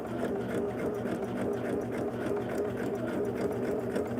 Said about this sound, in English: Turn it over and stitch on that line.